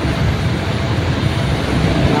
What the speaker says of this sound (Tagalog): Medyo maingay kasi traffic.